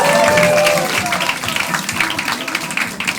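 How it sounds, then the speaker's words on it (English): A crowd at a Rotterdam comedy club, Club Haug, bursts into close, loud applause that thins slightly toward the end, with scattered whoops and a voice cutting through the clapping early on. "Please keep that applause going for your next act, Sam."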